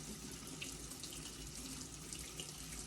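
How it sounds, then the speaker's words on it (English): A paint brush is rinsed under a steadily running bathroom tap, a constant hissing splash of water hitting the sink at close range with no voices. "as I rinse off the paint from my brush"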